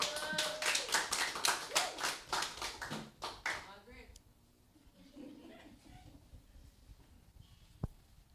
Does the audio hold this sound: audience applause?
yes